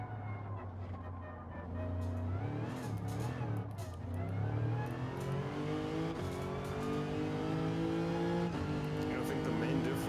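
Race car engine at low revs during Nürburgring sim racing, a droning, rising and falling engine tone that climbs steadily as the car accelerates, fairly quiet, with a voice talking over it.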